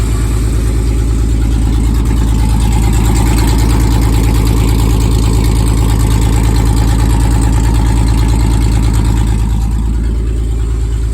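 Warmed-up car engine idling steadily up close, a loud, even low rumble with a smooth pulsing beat and no revving, alone throughout.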